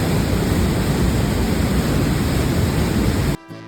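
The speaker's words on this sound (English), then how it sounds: "There you will be greeted by the thunder of the water rushing through it." Loud, steady roar of water thundering through a narrow river gorge in Austria, the Sigmund Thun Gorge, close and constant for over three seconds before cutting off abruptly.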